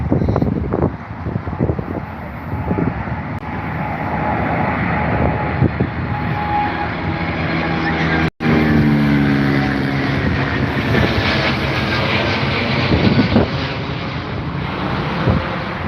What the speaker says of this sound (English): Royal Jordanian there, folks, on a Dreamliner, making their way out of London Heathrow this afternoon